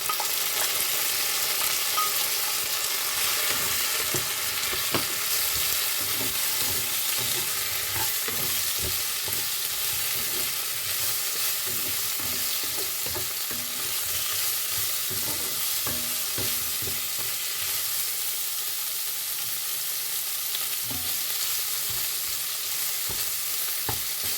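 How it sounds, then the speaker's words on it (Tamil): Steady sizzling and crackling of dried fish frying with onions in a pan, with occasional stirring scrapes, continuous and close throughout. "இந்த கருவாட்டையும் வெங்காயத்தோட போட்டு வதக்க போகிறேன்"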